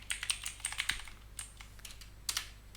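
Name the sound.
typing a command on a computer keyboard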